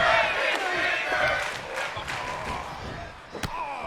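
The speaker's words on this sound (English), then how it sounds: "The crowd chanting something there" Arena crowd noise in a pro wrestling video game, a steady dense roar with rising chant-like swells and a couple of sharp impacts near the end, loud and continuous throughout.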